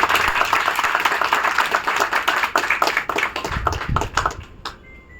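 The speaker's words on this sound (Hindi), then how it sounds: "तो मैं समझता हूं कि हम एक बार जोरदार तालियां बजाएं।" Audience applause for the chief guest at a press club scooty distribution ceremony in Faridabad, a loud, steady burst of many clapping hands that thins toward the end before fading out.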